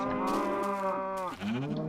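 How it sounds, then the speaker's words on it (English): Cow mooing in the video game Minecraft, one long, loud, close moo that bends downward in pitch near the end and then rises briefly, heard alone without speech. "Bring this cow in here."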